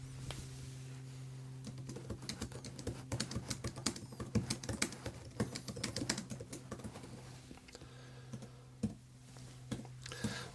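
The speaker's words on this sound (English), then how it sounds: "let's start typing" Steady, rapid typing on an e-ink tablet keyboard folio, soft clicky keystrokes in uneven bursts, close up, with a faint hum beneath and no talking.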